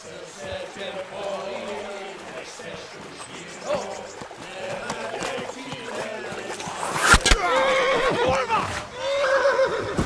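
Horses neighing and whinnying in Kingdom Come: Deliverance, several loud shrill calls over hoof clatter and shouting voices, building in intensity toward the end.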